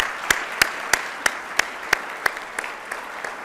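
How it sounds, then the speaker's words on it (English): Crowd applause at a 25th anniversary celebration at the George H.W. Bush Presidential Library and Museum, heard as about ten sharp, evenly spaced claps in a steady rhythm that fade slightly toward the end. "one final round of applause for Gene and Warren for an amazing event."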